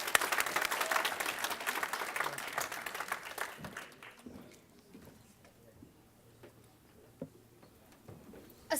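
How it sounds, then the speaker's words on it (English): Audience applause at a school graduation ceremony for a junior speaker, fairly strong clapping at first that thins out and fades to a few scattered claps and quiet room noise. "Would you give her a round of applause, please?"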